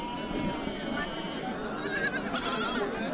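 Goat kids and lambs packed together at the Mecheri livestock market in Salem, bleating repeatedly and loudly up close amid a steady crowd murmur.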